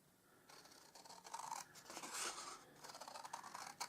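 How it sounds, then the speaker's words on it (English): Scissors slice through scrap paper in a close, crisp series of rasping cuts, with a soft scraping texture and no talking. "Okay, so I'm just going to cut that with my scissors."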